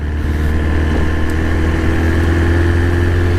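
A BMW S1000 motorcycle engine runs steadily near the microphone, a loud, constant idle-like hum with low rumbling tones and no revving bursts.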